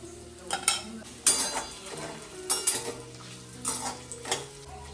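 Soaked sabudana khichdi with sugar, salt and crushed peanuts is stirred in a pan, a spoon scraping and clinking against the metal in irregular strokes over a soft sizzle, close by.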